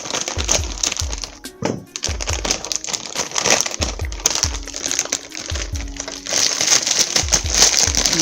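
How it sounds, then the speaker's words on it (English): Package being cut open with scissors in a home kitchen while making vegetable stew, a busy mix of crinkling plastic, snipping and rustling, close and fairly loud, with low thumps and handling noise throughout. "All right, cut it open with some scissors."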